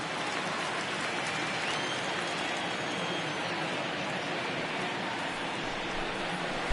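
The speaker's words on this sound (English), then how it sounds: "I can hear the crowd murmuring now" A baseball crowd murmurs in the stands at a Southern League game, Braves at Smokies. It is a steady, diffuse wash of distant voices with no clear individual words.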